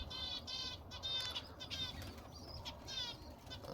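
Pigeons flap their wings in a rooftop loft of breeding pigeons with chicks, giving soft fluttering bursts close by, with faint chirps and quiet background.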